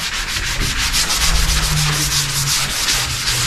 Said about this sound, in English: So I'm going to do another sanding of this prior to finishing.